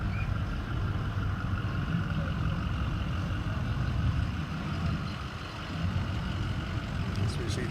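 Vehicles rolling past in a Christmas holiday parade, a steady low truck-like engine rumble that dips briefly before swelling again, with a voice talking over it.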